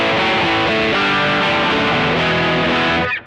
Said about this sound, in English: And the Rat, or Rat style sound.